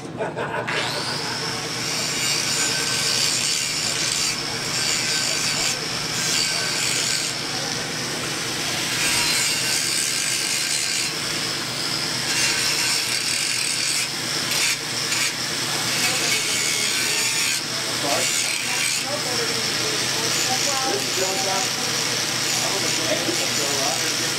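A Makita power grinder whines continuously against metal, with steady high-pitched grinding and occasional shifts in pitch as the tool bites.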